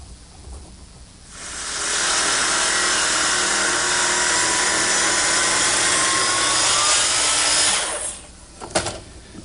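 A power tool cuts a knife slot in a wooden butcher block, a loud steady whining, hissing cut that runs for about six seconds, then spins down with a few clunks after.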